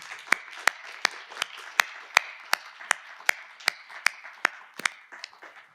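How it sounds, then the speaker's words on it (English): A conference audience applauds its speakers, the sound dominated by a series of crisp, evenly spaced claps from one nearby pair of hands over a soft background wash of further clapping. "Can I ask you to give all our speakers another round of applause?"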